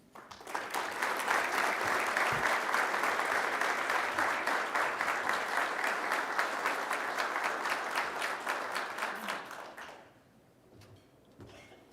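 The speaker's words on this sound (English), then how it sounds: "Let's give a round of applause for Congressman Cole" An audience at a USGLC conversation event applauds Congressman Tom Cole, a dense sustained round of clapping from a large crowd that fades out after about ten seconds.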